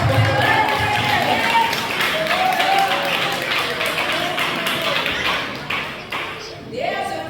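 Church congregation clapping and cheering in steady, dense applause that fills the room, with crowd noise throughout and no clear speech over it.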